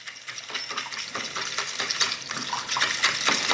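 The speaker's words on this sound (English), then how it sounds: "give it a good stir" Cream of rice being stirred in a pot of water, producing a steady wet swishing and sloshing with small clinks, close and continuous, without speech.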